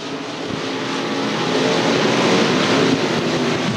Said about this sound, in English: they're on the speedway running in the IMCA stock cars